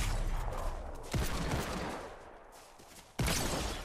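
Gunfire in Fortnite, including a hand-held sniper rifle, cracks sharply in two loud shots about two seconds apart over a dense rushing background of game noise.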